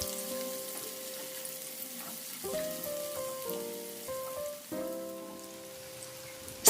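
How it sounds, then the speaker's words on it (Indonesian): Spices sizzle and crackle steadily as torch ginger, bay leaves and galangal are stir-fried in a pan, with bursts of scraping and clinking from stirring utensils throughout, no voices present. "Aduk tumis kembali sampai kecombrang matang."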